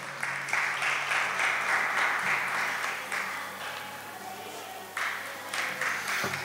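Audience applause at an arts honors award ceremony, a fairly faint hall-wide clapping that swells and dips in waves, with a low steady hum beneath and some voices mixed in.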